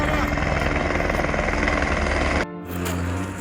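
Helicopter at the Kedarnath helipad in the Himalayas, at about -7°C, running a shuttle service from Phata: a loud, steady rotor and engine roar fills the clip, then drops sharply and eases back slightly near the end, with speech over it.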